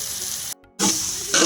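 Tomato paste goes into a simmering Bengali gravy for jackfruit and prawn curry, giving a loud, close, continuous sizzle, briefly interrupted and then hissing more strongly.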